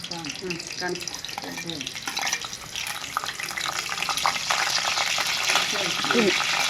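Mustard seeds and curry leaves splutter in hot oil, a crackling sizzle that grows denser and louder toward the end, with a voice speaking over the first few seconds.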